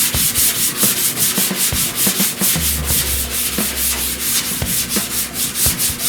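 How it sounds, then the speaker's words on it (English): Rhythmic back-and-forth hand block sanding strokes across the door and fender panels of a 1969 C10 truck, a steady scratchy rasp repeating at a brisk even pace, close up, with a low hum entering partway. "you can't really call yourself a body man if you haven't spent hours hunched over the side of a car block sanding"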